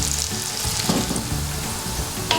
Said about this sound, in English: now we're going to add the onions to it and going to fry it until they are golden color.